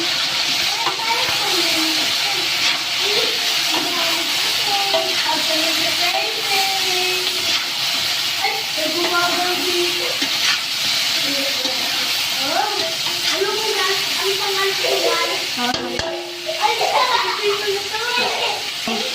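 Fried potatoes and carrots being stirred in a pan for chicken afritada, a steady sizzle with scraping and stirring textures, while someone talks throughout.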